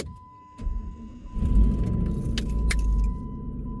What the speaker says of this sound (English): So I just wanted to turn this on to document and hopefully successfully that this car starts.